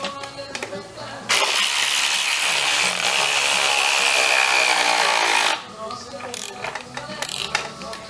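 Power tool ratcheting bolts on an S10 pickup truck during engine work: a loud, steady mechanical whir and clatter lasting about four seconds, with brief clicks and short bursts before and after.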